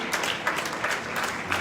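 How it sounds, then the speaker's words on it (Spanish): Worshippers in a church service clap together in praise, a continuous crowd applause with dense overlapping claps at moderate level, brief and unbroken. "Dale un fuerte aplauso al Padre,"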